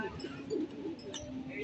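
Racing pigeons coo softly in a loft, low murmuring calls repeating at close range while someone speaks quietly nearby.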